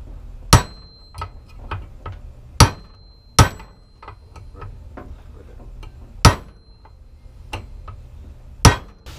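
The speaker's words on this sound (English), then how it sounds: "we've been beating on this thing for like 5 minutes trying to get the diff flange out" Heavy hammer blows strike the differential flange on a BMW E36, about eight sharp, ringing metallic hits spaced irregularly, close and loud, with quieter taps in between.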